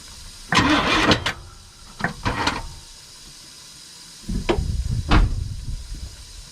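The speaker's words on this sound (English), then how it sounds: "That felt like a misfire." A '93 Chevy Silverado K3500 with a 7.4L TBI engine cranks and sputters in short uneven bursts, catching briefly and stumbling with a misfire, close by in a quiet space.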